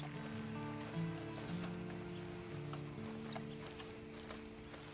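A horse in the video game Red Dead Redemption 2 clip-clops steadily over a sustained, droning tonal background, with the hoofbeats moderately present throughout.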